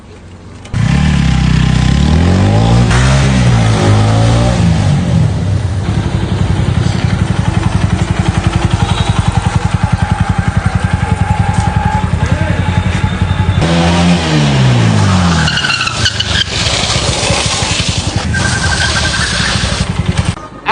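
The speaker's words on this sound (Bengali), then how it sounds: "আমি দেখাচ্ছি বাইক স্ট্যান্ড করে।" A motorcycle engine revs hard during a late-night bike stunt, loud and close, with rising and falling throttle sweeps near the start and again near the end around a sustained high-pitched roar.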